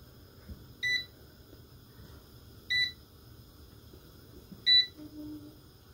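An oven timer being set for 15 minutes while grilling lamb chops gives three short, clear electronic beeps, evenly spaced about two seconds apart, over a quiet kitchen hum.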